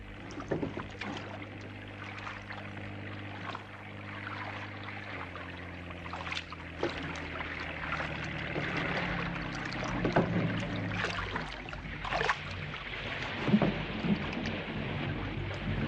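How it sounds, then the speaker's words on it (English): A low, steady patrol boat engine hum drones underneath, with water sloshing and splashing nearby in irregular bursts. "It's a patrol boat."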